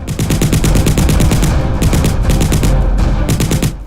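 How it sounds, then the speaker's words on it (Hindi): Rapid bursts of loud gunfire at night across the border villages of Akhnoor, Jammu, dense repeated shots in quick succession with pauses between volleys, continuous and close throughout. "रात करीब 8:30 बजे गोली की आवाज ने सन्नाटे को चीर दिया"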